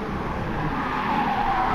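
Lamborghini Diablo GT with a 6-litre 48-valve V12, driven in GT Sport on the tight Tsukuba circuit, slides its tail with a steady loud tire squeal over the engine's drone, close and continuous.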